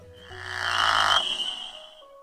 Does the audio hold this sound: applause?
no